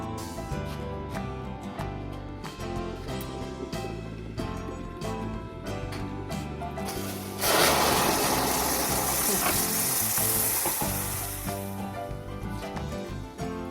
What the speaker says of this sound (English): I'm going to add 1 cup of water to this, but it's important that you add hot water